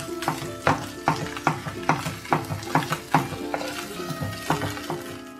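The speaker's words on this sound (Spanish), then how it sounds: "Vamos a esperar que se deshaga o que se fríe bien el chorizo." Chorizo fries in a pan with tomato and onion for pork beans: a spatula scrapes and taps in a quick, regular rhythm over a close, continuous sizzle.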